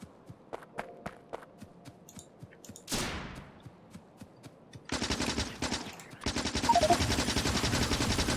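In Factorio, modded with Angel's and Bob's, guns fire on biter nests: a few sparse ticking shots, a sweeping whoosh, then sustained rapid machine-gun bursts that grow dense and loud.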